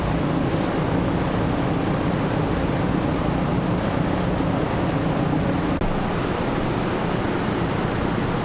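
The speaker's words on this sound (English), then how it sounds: "Man, it is so windy." Strong outdoor wind buffets the microphone in a steady, heavy rumble with faint gusting changes, continuous and unbroken, and no one speaks.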